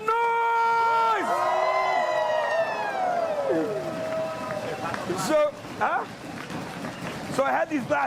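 A conference crowd cheers and whoops loudly over music, with sustained rising and falling whistle-like cries that settle into scattered shouts. An amplified voice calls out over the noise.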